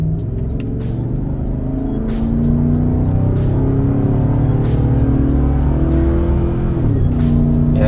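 A 2011 Chevy Avalanche with a 320-horsepower engine accelerating on a straightaway, its drone loud and close, climbing steadily in pitch with a brief shift dip near the end, heard from inside the cabin without talking.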